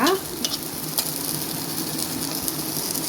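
Green chilies and curry leaves sauté in a pan of oil for a simple egg curry, giving a steady close sizzle with a few light stirring clicks throughout.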